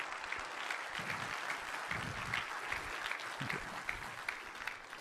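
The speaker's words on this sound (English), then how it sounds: "that in itself, I think, deserves a big round of applause" Applause from a conference audience at a software developer event, a steady wash of many hands clapping for several seconds, moderately loud and fairly distant, without talk.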